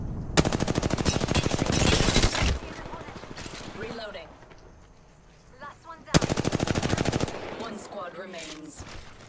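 Automatic weapon fire from Apex Legends ranked play on the Storm Point map comes in two long, loud rapid bursts. Between them are quieter stretches with a game voice and scattered effects.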